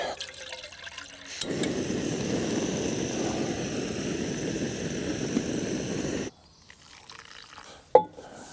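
A Jetboil camping stove heats water for morning coffee at a Pacific Northwest motorcycle campsite, giving a steady, close roaring hiss for about five seconds before cutting off into near-quiet broken by a single sharp click.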